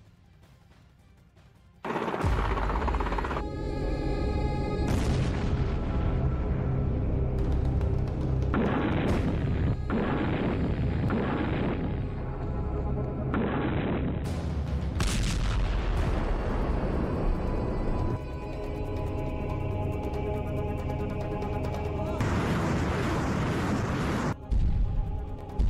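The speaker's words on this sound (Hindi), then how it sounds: "रूस के सैनिकों ने यूक्रेन के खार्किव में भी मिसाइल और बमों से हमला किया।" Missile and bomb explosions during wartime attacks on Kharkiv, Ukraine: heavy booms and crashing blasts erupting one after another in a loud, dense sequence, with rumbling after-roar between impacts.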